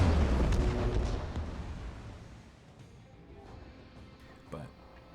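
An enemy warship in World of Warships fires its guns with a heavy, loud booming rumble that slowly fades away, followed by a smaller distant pop.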